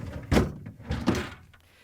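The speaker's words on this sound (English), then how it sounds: "To remove the vegetable drawer, we simply pull this out." A Samsung refrigerator vegetable drawer, part DA97-08437D, is pulled out, giving two close, dull plastic thunks about three-quarters of a second apart with quiet between them and no talking.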